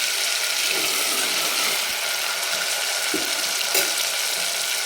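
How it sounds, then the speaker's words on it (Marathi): Mutton masala sizzles steadily and loudly in a hot pan for black-spiced mutton curry, a dense continuous frying hiss with a few faint stirring knocks. "आता याला छान परतून घ्यायचं."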